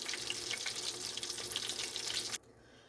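Stuffed cod browns in a hot pan with a steady, close crackling sizzle of many fine pops that cuts off abruptly near the end.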